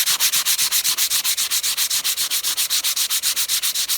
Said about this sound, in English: Using 220 grits to basically sand it down to make it smooth so the glue will stick